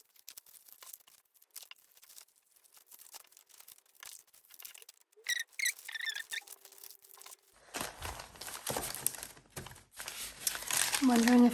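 Packaging paper with a collage photo and a paper bag being handled, with sparse crinkles at first, then dense, loud crumpling and rustling close by, and a voice talking throughout.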